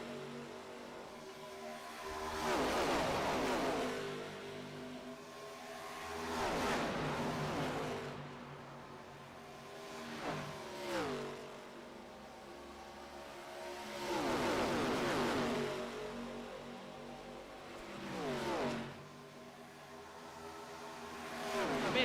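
Race cars in a racing video game accelerating out of turn 4 at Atlanta, engines swelling and fading in repeated passes as several cars roar by one after another, with pitch sweeps as each goes past.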